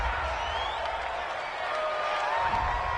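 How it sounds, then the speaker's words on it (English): A home crowd cheers a penalty call in a Seahawks at Cowboys football video game, a steady roaring stadium wash that swells slightly toward the end. "This home crowd, they're happy with that call."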